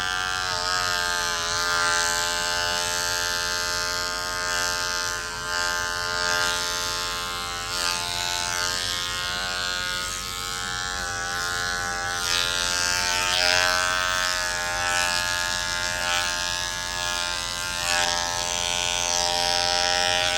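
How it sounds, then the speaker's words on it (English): A small electric dog clipper buzzes steadily and loudly at close range on a matted Japanese Spitz, its high whine wavering slightly throughout with no talking. "let me get a mini clipper. Wow, so noisy."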